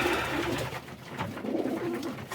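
Young pigeons coo in a loft in low, soft, rolling calls at close range, with faint background noise and no talk.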